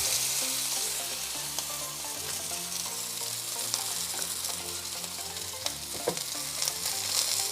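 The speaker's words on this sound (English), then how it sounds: "As we sear our steak" Steak sears loudly in canola oil in a hot pan, producing a continuous close sizzle and crackle with occasional sharper pops and faint scraping, with no talking.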